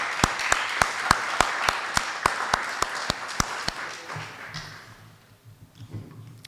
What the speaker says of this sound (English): And you deserve a round of applause for that.